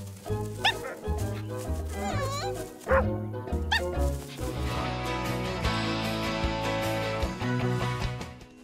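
Cartoon dogs yip, bow-wow and whimper in a dog park in Charlotte aux Fraises, with playful animated barks mixed into music and character voices.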